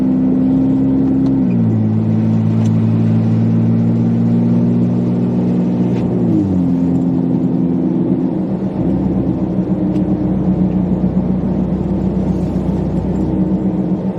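A car cruising on a highway in lake effect snow near Cleveland, with a loud, steady engine drone and tire rumble and a couple of pitch drops as it shifts gears.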